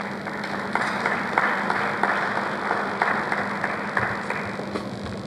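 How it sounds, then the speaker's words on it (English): An audience at a seminar on corruption risk in Nigerian higher education claps in steady, moderately loud applause for a speaker, over a constant background hum in the hall. "Can we please give him a round of applause?"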